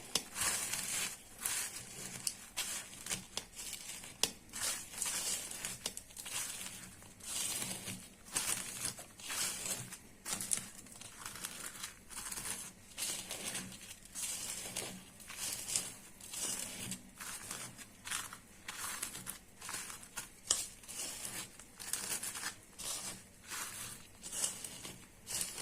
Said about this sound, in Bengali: এখন একসাথে মরিচ, রসুন, লবণ দিয়ে কষাইলে নিতেছি।